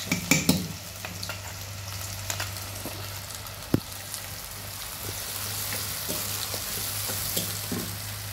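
Ground spice paste fries in oil in a pan for a Bengali pabda fish curry, a steady close sizzle with a few sharp clinks and scrapes early on and a low hum underneath, no talking.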